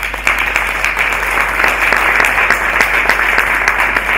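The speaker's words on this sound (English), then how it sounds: "Let's clap our hands for them." Audience at an HR strategy conference claps for the event organizers, steady close-up applause with distinct individual claps running at an even level from start to finish.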